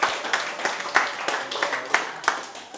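A conference audience in Sydney gives a short round of clapping, a loose cluster of hands beating in a quick, fairly even rhythm for a few seconds, moderately loud and slightly distant.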